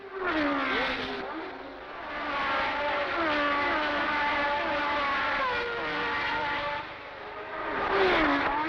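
Formula One cars racing in a heat wave in the 1970s, driven by Reutemann, Fittipaldi, Hulme and Lauda: high engines whine and rise in pitch as they pass, loud and continuous, with a commentator talking over them.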